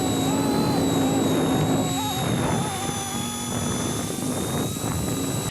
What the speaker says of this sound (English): We got the Cleetus XL helicopter.